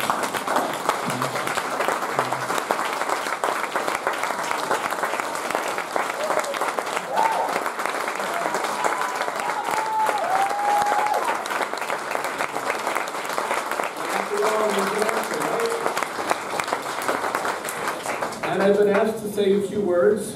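An audience on its feet gives a standing ovation at a theatre tribute, loud sustained applause filling the whole stretch, with some scattered voices and cheers near the end.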